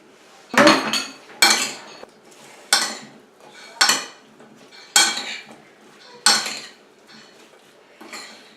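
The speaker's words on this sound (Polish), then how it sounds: "mieszamy." Salad of vegetables, tuna and olives tossed in a bowl: six or seven distinct clattering strikes of utensils against the bowl at a steady, unhurried pace, close and fairly loud, with no talking.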